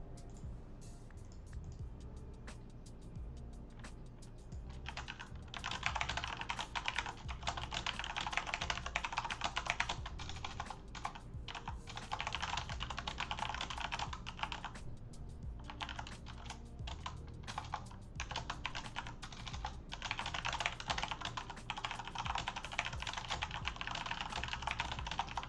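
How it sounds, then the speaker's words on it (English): Rapid, continuous typing on a computer keyboard goes on for about twenty seconds in a quiet room, keys clattering close by in dense bursts with brief pauses. "Sorry, typing out to the Red Viking."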